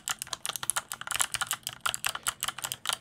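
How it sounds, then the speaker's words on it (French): Keys clack rapidly on an MSI Vigor GK50 Elite aluminium mechanical keyboard with Kailh Box White switches, a close, crisp run of tactile clicks in an irregular typing rhythm with no voice. "Alors voilà ce clavier mécanique avec de l'aluminium."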